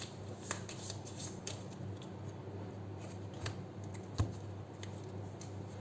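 A tarot deck is shuffled by hand close up: a steady, soft riffle of crisp card flicks over a low background hum, with a few sharper snaps and no talking.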